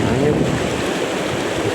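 Strong wind roars at the microphone beside the water at a wild tilapia fishing spot near rocks. The gusts are loud and continuous, a dense rumble with no clear speech.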